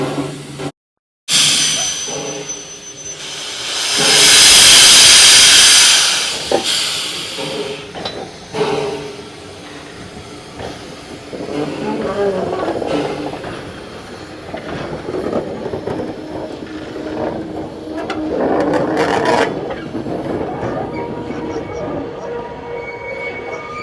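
A steam locomotive on a turntable, carrying a full load of coal and water, lets out a loud, sharp burst of hissing steam, then settles into a low rumble with scattered metallic clanks and faint voices.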